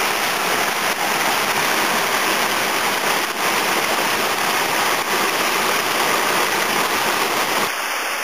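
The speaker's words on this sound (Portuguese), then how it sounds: "Terceira cachoeira do Churriado com 18 metros." An 18-metre waterfall in a canyon roars as a constant, loud, dense rush of falling water, close by and unbroken, with a faint high tone appearing near the end.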